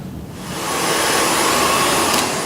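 A hair dryer switches on while styling a freshly cut pixie haircut and blows with a steady, loud, airy whoosh that quickly builds to full strength and holds.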